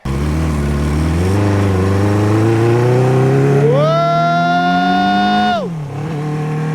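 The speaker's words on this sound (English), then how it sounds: "But boy, did it sound good for the 10 seconds it was running." A 1978 Kawasaki KZ650 motorcycle engine runs close by and revs, pitch climbing steadily to a sustained high scream before dropping sharply back down; someone briefly exclaims near the end.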